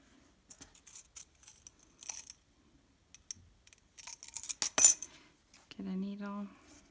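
Scissors snip through material while a mailer is made into a journal, giving sparse, sharp close cuts and clicks in short bursts, then a steady tonal hum near the end.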